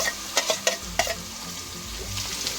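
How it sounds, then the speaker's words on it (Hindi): Chopped garlic sizzles and fries steadily in a hot pan, broken by a few sharp clinks of a spoon stirring against the metal near the start. "अब हम इसमें शामिल कर रहे हैं लहसुन जो हमने चॉप करके रख लिया था।"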